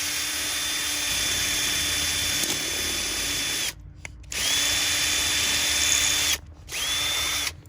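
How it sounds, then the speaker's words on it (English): A power drill whines steadily as it bores through material, stopping briefly twice before spinning up again; close and loud, no talking. "I'm gonna drill, and I drill through the middle"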